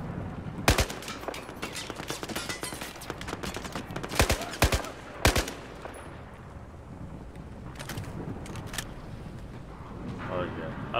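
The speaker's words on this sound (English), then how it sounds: "Can I really shoot through these stairs?" Gunfire in Battlefield 4 as shots are fired through a staircase: several sharp, loud close bursts in the first half, then quieter scattered shots, with someone talking over them.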